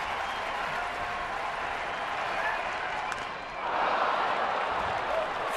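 A baseball crowd at an Arizona at San Francisco game murmurs steadily after a foul ball, then swells into louder cheering partway through.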